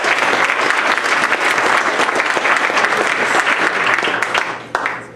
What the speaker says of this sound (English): let's give Arcata High School just a round of applause for that